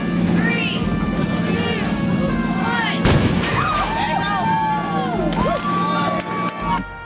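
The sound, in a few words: human cannonball fired out of a cannon, crowd cheering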